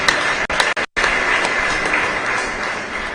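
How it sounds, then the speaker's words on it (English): Mourners at a requiem mass for a fallen general clap in a loud, sustained round of applause, broken briefly by a couple of short gaps, then continuing densely to the end. "Let's give General another better clap"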